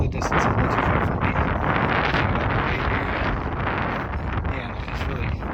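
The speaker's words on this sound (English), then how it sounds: "it's really windy" Strong wind roars across an open disc golf course, buffeting the microphone in a dense, steady rumble with gusty surges throughout.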